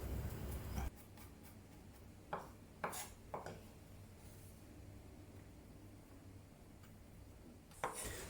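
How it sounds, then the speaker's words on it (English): Garlic being coarsely chopped with a kitchen knife: a few separate, sharp knocks of the blade on the board, spaced irregularly with long quiet gaps between them, close and fairly soft against a low background hum. "Coarsely chop the garlic and set it aside."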